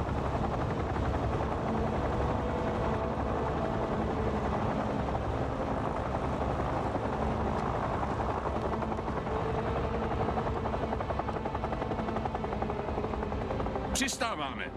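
An aircraft landing in a dubbed action drama film: a continuous loud, dense engine and rotor-like roar fills the whole stretch, with a brief sharper burst of noise near the end.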